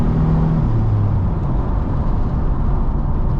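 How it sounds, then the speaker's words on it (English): A 2002 Chevy S-10 Xtreme Blazer with 86K miles accelerates hard as the transmission kicks down, heard from inside as a loud, steady engine roar and road noise with no voices. "I'll go ahead and punch it and let it kick down."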